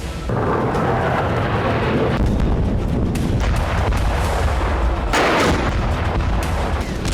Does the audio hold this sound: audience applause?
no